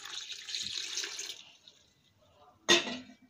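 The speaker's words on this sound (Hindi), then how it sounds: "1 गिलास पानी डालेंगे" Water from a glass runs steadily into a cooking pot for about a second and a half, then stops; after a short quiet, a sharp splash or clatter sounds close by.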